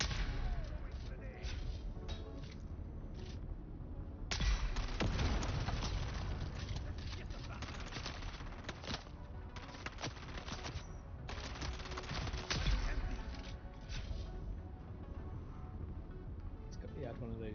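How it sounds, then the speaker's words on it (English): Shield-penetrating shotgun firing darts in Dune Awakening's Deep Desert, giving a few heavy booming blasts within a dense, continuous game mix of action noise. "he had one of those shotguns that penetrate through the shield, penetrating darts"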